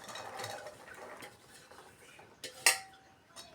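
Fruit salad of apples, bananas and pomegranate seeds mixed with custard, stirred by a spoon in a bowl: soft close wet stirring followed by one sharp metallic clink against the dish and a lighter tap.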